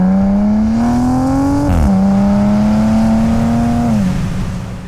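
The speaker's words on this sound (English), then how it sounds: "you hear the turbo spool up and you hear blow-off valve noises" A 2026 Dodge Charger Sixpack Scat Pack, a turbocharged 550-horsepower car, drives loudly up close with a steady, rising engine drone that briefly dips and shifts twice as the throttle lifts, then fades slightly at the end.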